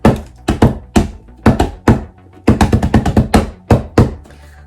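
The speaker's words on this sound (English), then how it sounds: "Now I have a drum set." A homemade drum built from layered tape is tapped by hand in quick, uneven bursts of about fifteen close, dull thumps with short pauses between groups, and no talking.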